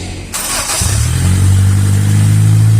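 A Honda Civic 1.7 engine with a restored crankshaft gear and its exhaust still disconnected cranks briefly, catches and settles into a loud, close, rumbling idle.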